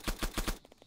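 Four quick, evenly spaced gunshots ring out in a video game, loud and punchy, followed by fainter echoing pops as the burst trails off.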